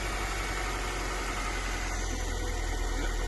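Petrol engine of an old Opel station wagon running steadily after starting, a continuous close rumbling idle with a rough, slightly knocking texture throughout, no voices.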